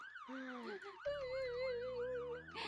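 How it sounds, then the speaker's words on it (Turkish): A police car siren from the Roblox Brookhaven game wails in a steady up-and-down cycle, loud and close, with a sustained game tone running beneath it. "Polis arabası yapmışlar."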